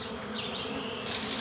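Bees pour out of a hive inside a tree trunk as smoke is pushed in, making a dense, continuous buzzing swarm close by with no pauses and no voices.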